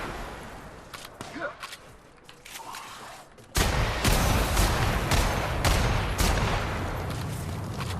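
Gunfire in The Outer Worlds video game: scattered sharp shots, then from midway a dense, loud burst of rapid fire and impacts that carries on to the end.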